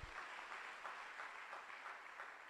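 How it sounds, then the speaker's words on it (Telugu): Steady applause from a church congregation during a sermon, a continuous wash of hand clapping at moderate level with no voices over it. "చప్పట్లు కొట్టు."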